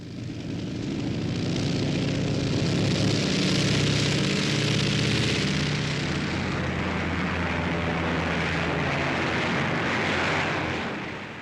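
Heavy bomber engines roar steadily overhead in a 1943 wartime RCAF scene, a loud, continuous drone with no voices over it.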